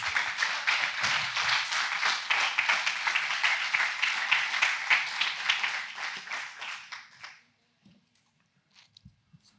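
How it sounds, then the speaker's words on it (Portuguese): A congregation claps for Jesus during a church sermon, a fairly rhythmic burst of many hands that holds for about seven seconds, then fades out abruptly, leaving near silence with a few faint knocks. "Dá uma salva de palmas, Jesus."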